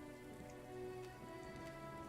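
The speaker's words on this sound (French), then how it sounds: "Ah bah il pleut" Steady rain falls in The Witcher 3, a dense, even patter of drops on surfaces that holds at a constant level throughout, with no voices over it.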